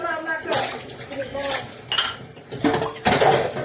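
Pots, pans and steel dishes clink and clatter close by while being scrubbed and washed, in irregular bursts of knocks and scrapes with a voice in the background.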